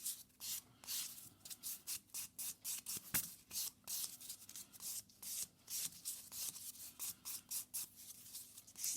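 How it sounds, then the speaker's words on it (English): A 100 grit nail buffer rubs over acrylic nails in quick, even back-and-forth strokes, a soft close scratchy swishing that repeats steadily without any voices. "we'll go in with our buffer. So our 100 grit side first to remove the scratches from our 180 grit file."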